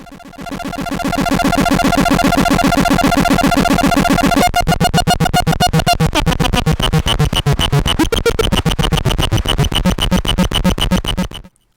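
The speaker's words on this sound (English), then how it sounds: "how the power starve attack affects the synth" Loud, harsh buzzing synth noise through an Electrolobotomy Clusterfu(k power-starve effect, a dense stuttering texture that shifts partway through into choppier, rapidly pulsing bursts, continuous for several seconds.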